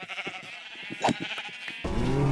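Sheep bleating in Minecraft, a few short wavering bleats in quick succession, fairly close, followed by a brief higher-pitched game sound near the end.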